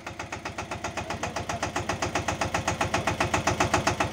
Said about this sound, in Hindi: ये ट्रैक्टर स्टार्ट हो रहा है देखो तो स्टार्ट हो चुका है